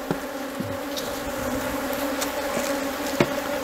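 Honeybees buzz steadily around an open hive during honey-flow season as supers are added, a close, even drone with a few brief louder passes of individual bees.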